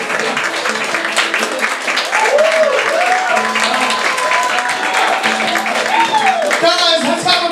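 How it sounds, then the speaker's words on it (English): Sustained applause and cheering from a crowd for a cosplay cabaret cast on stage at a New York show, loud and continuous, with whoops and voices calling out over the clapping. "let's have a big round of applause for your Cosplay Cabaret cast tonight."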